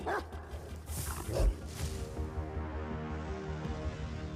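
Dogs barking and yipping at a distance, muffled and intermittent against a steady low rumbling background, with a few whimpering notes.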